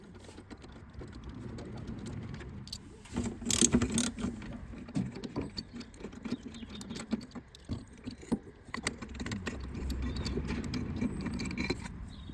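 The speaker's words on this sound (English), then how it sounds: "it's got 4 15mm bolts, so just take them out and then you can remove the brace piece" A ratchet takes out four 15mm bolts from the rear brace of a Polaris Sportsman quad bike, giving close, quick metallic clicking and ratcheting with scattered clanks of tool on metal and no talk.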